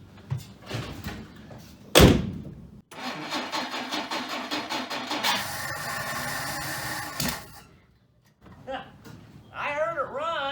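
A 1959 Plymouth Suburban cranks and catches after a loud door slam, its engine running roughly for several seconds before cutting out, then a voice speaks over the quiet that follows.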